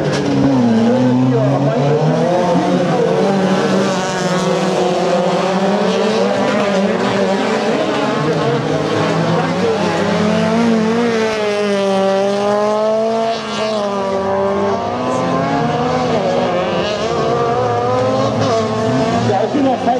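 Class 5 autocross race cars at the 2016 Hoope final, engines loud and close with rising and falling revs through gear changes, running continuously for about twenty seconds.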